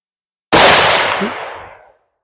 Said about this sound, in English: love this gun. The more I shoot it, the more I love it.